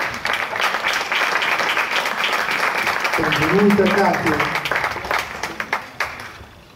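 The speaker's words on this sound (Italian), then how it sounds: "con il vostro applauso migliore" Audience applause at an outdoor film festival evening in Sammichele di Bari, a steady wash of clapping throughout, with a host's voice speaking briefly over it midway.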